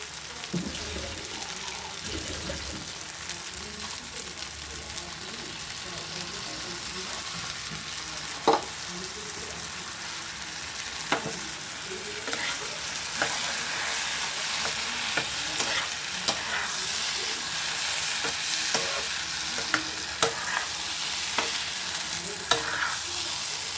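Spice masala sizzling and frying in a pan as water is added, with steady hiss, stirring scrapes and occasional sharp pops, fairly close with no talk.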